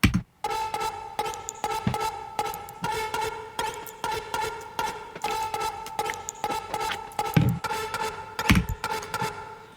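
A heavily saturated, gritty algoza reed melody loops in rhythmic bursts, layered with percussive clicks and a couple of deep low hits.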